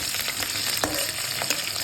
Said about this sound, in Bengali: তারপর আলুটাকে ভাজা ভাজা করে